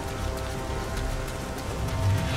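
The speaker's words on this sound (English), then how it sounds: "It's raining outside." Steady rain falling outside in the Nioh video game, a continuous soft hiss at moderate level with no other clear sounds.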